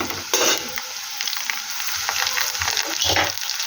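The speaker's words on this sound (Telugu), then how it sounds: "ఆయిల్ పోసి ఆనియన్స్ పచ్చిమిర్చి ఫ్రై అయిన తర్వాత" Onions and green chillies fry in oil, giving a steady close sizzle and crackle with occasional louder bursts as the pan is stirred.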